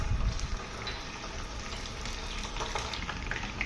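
Chopped aloe vera gel cooks in oil over low heat, giving a soft, even sizzle and bubbling that stays close and continuous.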